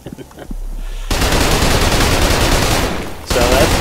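Loud, continuous automatic gunfire from the Trepang2 first-person shooter game roars in a sustained, dense stream after a few quieter opening sounds, briefly dipping before resuming at full volume.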